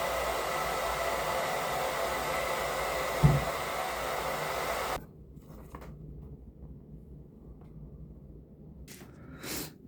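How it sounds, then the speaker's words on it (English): A plastic tote gets a round hole cut into it while building a stray cat shelter. A steady, loud rasping drone runs for about five seconds with one sharp knock partway through, then stops abruptly, leaving quiet room tone and a couple of brief scrapes. "So first I cut a round hole in the first tote."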